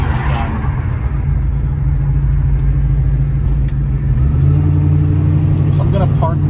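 A 1970 Chevrolet Nova drives along with a steady low engine rumble and drone heard from inside the car, with faint clicks and light squeaks over it.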